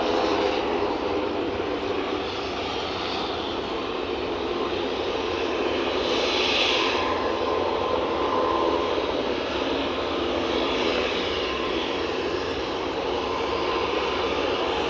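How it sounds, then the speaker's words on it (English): Steady roar of a Jetstream 41 turboprop aircraft's engines at Aberdeen, loud and sustained, droning on without a break. "It is a Jetstream 41."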